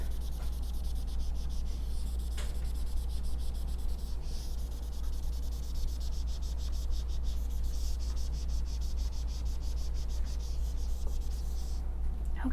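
An eraser is rubbed across a whiteboard, giving a soft, continuous scrubbing hiss over a steady low background hum, with a few faint taps along the way.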